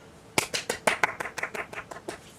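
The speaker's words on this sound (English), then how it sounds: "You're the only idiot that clapped." A lone person claps about a dozen times at a fan fest event, with sharp, close, slightly uneven claps that thin out and soften toward the end.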